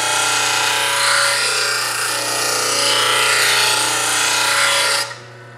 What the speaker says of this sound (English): you'll be grinding your primary bevel